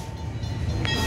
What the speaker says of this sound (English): There's just a train whistle.